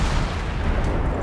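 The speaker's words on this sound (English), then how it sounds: "I'm going to try to get some shots off." Naval guns fire in World of Warships as a light cruiser engages, a dense, loud, booming roar of artillery that fills the whole short stretch with no pause.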